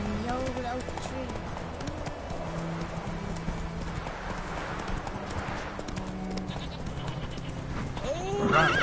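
Hooves of Roach, a horse in the video game The Witcher 3, clip-clop steadily at a gallop beside game music, while voices talk over it and a brief whinny-like sound comes near the end.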